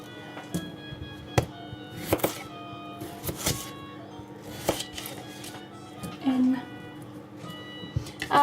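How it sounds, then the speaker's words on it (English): A knife chops potatoes into rustic chunks on a board while a quiche is prepared, giving scattered sharp thunks and taps at an uneven pace, close up and moderately loud, with talking over parts of it. "I'm gonna finish cutting potatoes"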